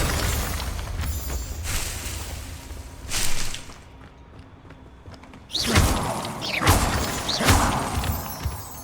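Confringo fire blast spells strike in Hogwarts Legacy, sharp crackling impacts with shattering debris and rumbling bursts, several loud hits separated by a brief quieter lull.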